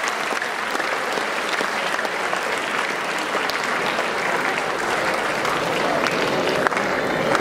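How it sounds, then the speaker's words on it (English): A large audience at a school Labor Day function applauds the people seated on stage, a sustained, even wash of clapping from many hands that holds steady throughout without pause. "they deserve our respect and a very big applause for all of them today"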